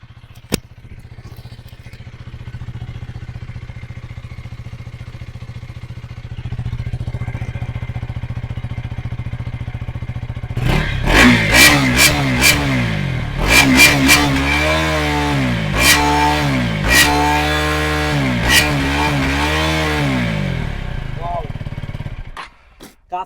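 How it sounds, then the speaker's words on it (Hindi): A 2024 KTM Duke 250 idles steadily, then revs sharply in a series of loud throttle blips, with a falling engine note after each rev, close to the exhaust. "2024 का KTM ड्यूक 250 का एग्जॉस्ट सुनिए।"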